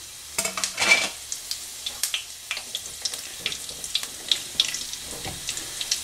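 Whole garam masala of fennel seeds, bay leaves, cinnamon, cardamom and cloves frying in oil in a pan: crackling sizzle with repeated stirring scrapes in short irregular bursts, close and fairly quiet.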